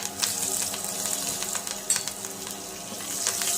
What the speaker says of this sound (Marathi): कोथिंबीर पण छान अशी परतवून घेऊ